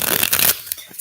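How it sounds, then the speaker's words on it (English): A deck of playing cards is riffle-shuffled close by in one quick, crisp, fluttering burst that fades out within a second. "let's shuffle"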